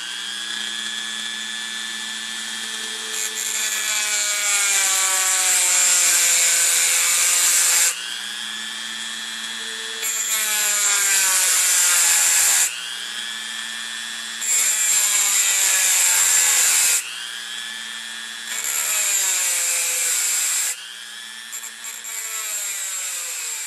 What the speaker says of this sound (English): I'm just using one of the metal cutting blades on a Dremel here